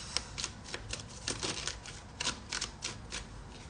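Cards pulled and flicked from a tarot-style deck, a quick run of light papery snaps and slides, close and fairly soft, with no talking.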